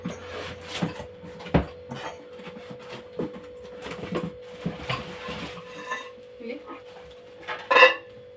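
A new ten-litre pressure cooker and other metal vessels are handled with repeated clanks, knocks and clinks, loud and close, while people talk nearby.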